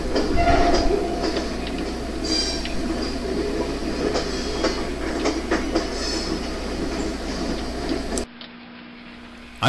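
Athearn HO model train with powered F7A and GP9 units and dummy rear units running on a DC layout, a steady rolling rumble with faint clicking wheels close by, continuing for about eight seconds before dropping to near silence.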